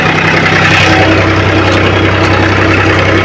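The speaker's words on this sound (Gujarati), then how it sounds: "અને આ કંઈક આ રીતે ચાલી રહ્યું છે ટ્રેક્ટર" A tractor's diesel engine runs steadily at idle nearby, a loud continuous low rumble and chug with no speech.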